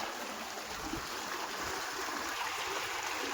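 Irrigation water running steadily through a field channel, a continuous broadband rushing and trickling close by with no pauses, carrying on alone without voices.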